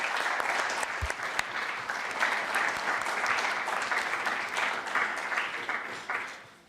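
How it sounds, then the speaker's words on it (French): A room of legislators applauds to elect a committee chair by acclamation, continuous moderate clapping that swells slightly then tapers off at the end. "Je vous propose donc de passer à l'acclamation."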